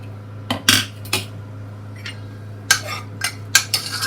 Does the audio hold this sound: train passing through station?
no